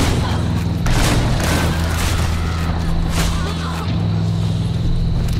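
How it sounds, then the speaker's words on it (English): A flashbang grenade going off in the violent shooter game Hatred, a loud sustained booming burst with heavy low rumble and crackling gunfire-like noise throughout, no clear voices. "Do some flashbang."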